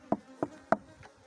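Honeybees swarm around a hive box a few days after a colony transfer, with three loud, close buzzing bursts evenly spaced, then a fainter fourth pass.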